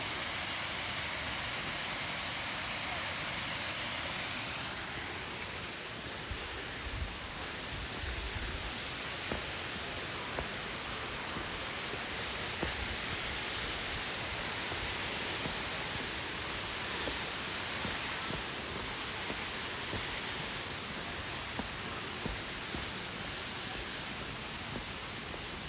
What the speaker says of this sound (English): you can see the falls just a little bit right through here.